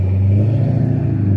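A car engine drones in a steady, close low hum with a slight rise in revs, continuous and loud with no voices.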